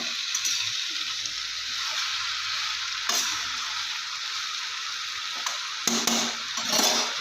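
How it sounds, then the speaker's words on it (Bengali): Pumpkin greens frying in a pan as they are stirred, a steady hissing sizzle broken by spatula scrapes and a few sharp clacks against the pan. "শাকটা দিয়ে ভালো করে আমি নেড়ে নেবো"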